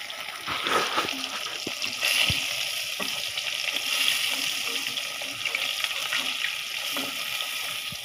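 Fish sizzles in hot oil in a pan as it fries, giving a steady bright crackling hiss with occasional spatters and the clink of a utensil stirring or turning the pieces.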